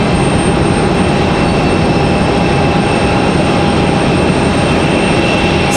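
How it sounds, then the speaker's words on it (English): A Frontier Airlines airliner taxiing at Raleigh Durham International Airport gives a steady, loud engine drone with a sustained whine running through it, constant from start to finish. "Here we go, Frontier Airlines on the move."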